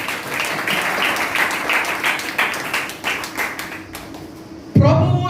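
Congregation at a Sunday church service clapping loudly and rhythmically for several seconds, ending as a voice speaks over it.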